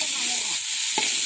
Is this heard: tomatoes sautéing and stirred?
yes